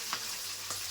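Onions frying in a pan of hot oil, a dense continuous close sizzle with a couple of brief stirring scrapes.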